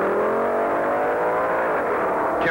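A 1970s Dodge Challenger drag racing car launches down the strip in a loud, sustained engine roar that holds strong and steady, with a hint of pitch shift near the end.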